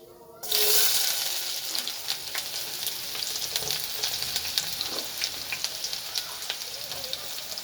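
Dried red chillies and onion sizzle steadily in hot oil, loud and close, with the spoon's scraping stir ticking through the crackle from start to finish.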